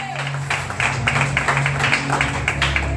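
A church congregation claps along during a lively worship service, with repeated rhythmic hand claps over a steady musical backdrop, sustained for the whole stretch.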